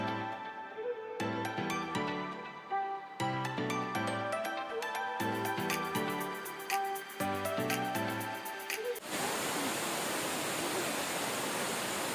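Rhythmic music with plucked notes and beats plays for several seconds, then cuts abruptly to a steady, rushing roar of falling water at Elephant Falls, a three-tiered waterfall near Shillong, Meghalaya.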